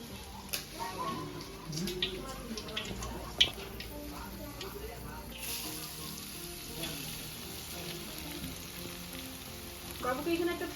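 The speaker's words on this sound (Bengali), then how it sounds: "বিনস একটু ভাজা নেব।" Beans fry in a pan in a home kitchen, giving a soft continuous sizzle with occasional stirring clicks and a sharper tap, while people talk faintly in the background.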